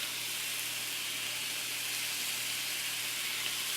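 Ground meat frying in a pan, a steady, even sizzle with constant crackle, close and moderately loud with no talk.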